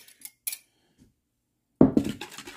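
A spoon works melted butter into apple cake batter in a bowl: a few light clinks come first, then after a quiet pause a louder burst of close, wet scraping and clattering against the bowl.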